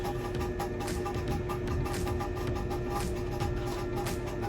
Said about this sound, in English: Sorry about the noise from the fan.